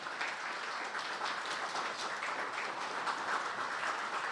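A seated audience at a Buddhist lecture welcomes a monk with steady, dense applause that holds at an even level throughout.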